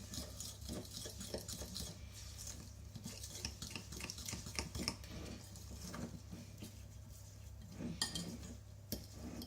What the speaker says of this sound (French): Après, vous ajoutez les flocons d'avoine, à peu près la moitié. Vous mélangez.